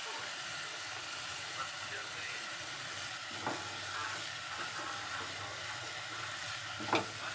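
Mixed vegetables for a soup frying in butter in a pan: a soft, steady sizzle with occasional scraping stirs of a spoon, heard close but fairly quiet.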